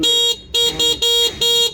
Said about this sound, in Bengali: এটা হর্ন হর্নটা কিন্তু অনেক স্মুথ